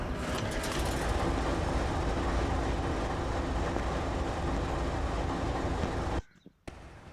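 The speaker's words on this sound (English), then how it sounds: "I'm just going to back the train up since it's right here and it's connecting to our cars." A freight train of steel cars in the Train Sim Pro USA video game rolls backward to couple up in the rain, a steady loud rumble and rattle that cuts off abruptly near the end.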